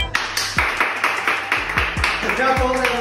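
Audience claps together in a steady, evenly spaced rhythm at a talk session, loud and close, with a voice speaking over the beat.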